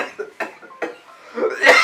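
A person coughs in three or four separate harsh bursts spread over about two seconds, the last one the loudest, with no other sound between them.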